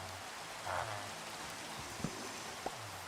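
Steady hiss of rain falling in Minecraft, a dense even wash of droplets with a few faint game clicks and low tones beneath, continuous and moderately loud.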